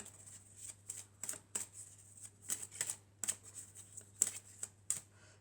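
Tarot cards are shuffled by hand in a quiet room, a close run of soft riffling bursts and papery flicks in uneven rhythm, heard alone with no talking.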